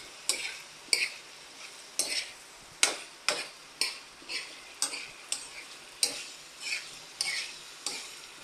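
Pork for menudo is stirred in a pan, with a utensil scraping and knocking against the metal about once a second over a soft sizzle. No one speaks.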